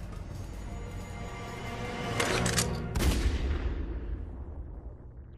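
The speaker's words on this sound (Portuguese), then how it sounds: "Alguém deu um tiro aí, né, pessoal?" Gunshot in the video game Resident Evil Revelations: a few sharp, close reports burst out over a quiet ambient game background, then trail off into a fading echo.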